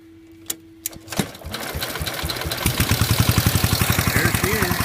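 A 1947 Gibson Model D tractor engine cranks with a few sharp knocks, then catches and settles into a loud, steady, rapid chugging idle that grows slightly stronger toward the end.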